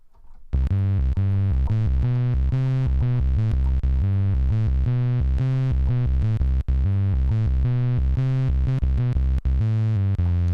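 A deep, fat bass synthesizer app plays a rhythmic sequence of repeated notes, loud and alone, with clean, rich tones.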